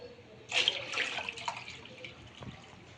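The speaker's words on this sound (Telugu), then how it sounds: "ఇప్పుడు వేడి వాటర్తోటి క్లీన్ చేసుకుందాం." Hot water poured over goat tripe to clean it, giving a splashing, running-water sound that starts suddenly and keeps going over a low background, with a few louder splashes.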